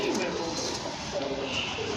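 A Rampuri pigeon hen coos softly in a low, throaty rhythm, close by and fairly quiet over a faint background hum.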